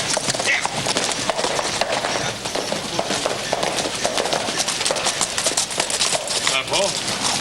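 Quick, busy clip-clopping of horse hooves pulling a buckboard wagon runs continuously under people talking, in a western TV series.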